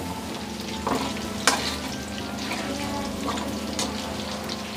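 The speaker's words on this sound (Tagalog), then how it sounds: "Kailangan natin i-fry ito para at least hindi sila masyadong malulusaw sa ating sabaw." Pieces of dalag fish frying in a pan, a steady close sizzle with a few clinks and stirring knocks, no talking.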